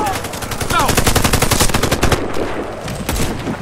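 Automatic rifle fire in the Xbox 360 shooter Warface, with rapid, loud bursts of closely spaced shots for about two seconds, then scattered shots and a brief voice.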